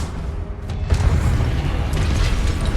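A Confringo fire spell goes off in Hogwarts Legacy, giving a single booming blast with a rumbling, crackling tail that fills the short moment in the game's combat.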